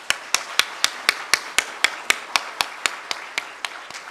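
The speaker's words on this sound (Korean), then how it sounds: "우리 잠깐이지만 격려와 사랑의 박수로 위로해 주시기 바랍니다" A church congregation at an elder ordination and retirement thanksgiving service claps in unison: around sixteen sharp, evenly spaced claps in a brisk steady rhythm, loud and close, with nothing else between them.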